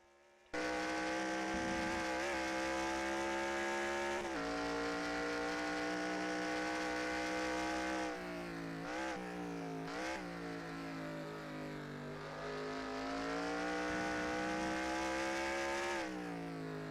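Race cars in the NR2003 racing sim at Watkins Glen roar continuously with high-revving engines, pitch rising and falling through gear shifts and corners, the loud engine drone steady and unbroken without talk.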